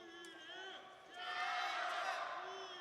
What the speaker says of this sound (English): Just a coincidence that the stadium was cheering during that replay.